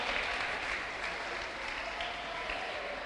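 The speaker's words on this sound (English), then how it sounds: "Please let's clap for him as he comes up." An audience at a school debate event claps for a participant walking up, a steady, even wash of many hands clapping at moderate volume throughout.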